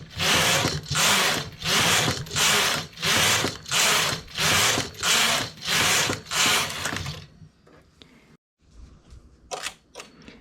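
A domestic knitting machine carriage is pushed back and forth across a full bed of needles, making about eleven loud rhythmic ratcheting sweeps in steady succession, followed by a few scattered clicks and clunks.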